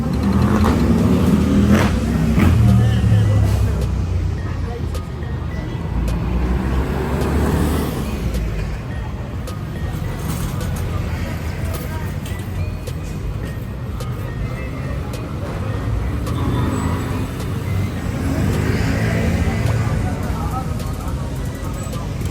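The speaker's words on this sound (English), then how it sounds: "It's just bicycles and motorbikes." Busy street traffic of bicycles and motorbikes in central Medellin makes a steady, dense roadway rumble, with engines passing close by throughout.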